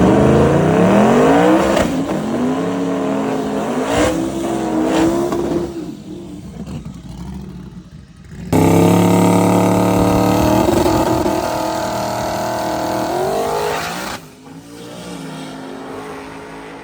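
Twin-turbo Camaro launching down a drag strip, its loud engine climbing through rising revs with clear gear changes, a brief lull, then another hard, roaring pull that stays close and dominant until it fades near the end.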